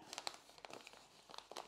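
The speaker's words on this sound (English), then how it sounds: "Unravel the other bit of paper" A sheet of paper is unravelled and crinkled at a weaving loom, a brief, soft, close-up rustle with crackly bursts.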